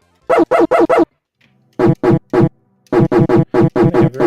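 A cartoon dog in the Picotron game, named Yipper, gives quick bursts of loud synthesized barks, first a group of four, then three, then a longer rapid string, with short silent gaps between them.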